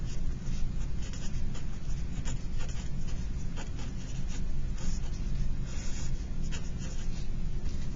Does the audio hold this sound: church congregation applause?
no